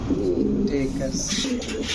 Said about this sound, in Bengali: এটা হচ্ছে অরিজিনাল গ্রে বার লাহোরি